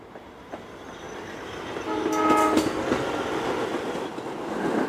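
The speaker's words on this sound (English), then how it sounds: "the familiar rumble of the R-44 was a comforting constant" An aging R-44 New York City subway train on Staten Island rumbles steadily, growing louder midway as a brief horn-like tone and metallic wheel clatter rise over the continuous rail noise.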